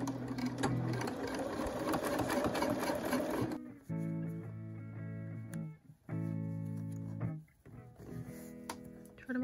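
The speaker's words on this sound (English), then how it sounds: "I'm going to stitch here, stitch this down in the machine" A sewing machine stitches elastic onto a cloth moccasin, running in a long steady burst, then in shorter start-stop runs with brief pauses between them, close and fairly quiet.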